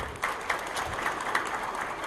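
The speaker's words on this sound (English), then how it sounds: "How about a round of applause for Fat Pipe?" Modest round of applause from a small audience at a 1 Million Cups entrepreneurs' presentation, with light, fairly distant clapping held steady for a couple of seconds.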